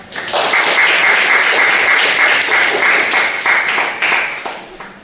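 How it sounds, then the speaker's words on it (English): A large audience at a talk applauds steadily for about five seconds to welcome a speaker, dense and loud clapping that tapers slightly near the end. "let's welcome our speaker with a big round of applause."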